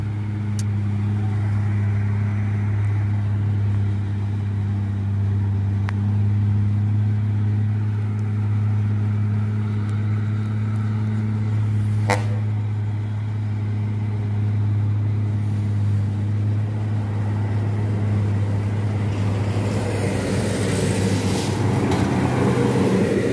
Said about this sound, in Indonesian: sepertinya truk Fuso juga berhasil menanjaki tanjakan ini ya